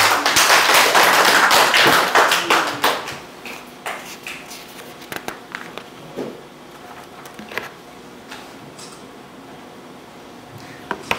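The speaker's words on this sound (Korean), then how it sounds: "박수 한번 부탁드리겠습니다." A seminar audience at a Korean real estate agents' book club bursts into loud applause that quickly thins into scattered claps and fades out.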